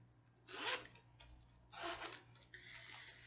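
A zipper on a Thirty-One bag pocket is pulled in two quick, faint rasping strokes, close and quiet with no talking.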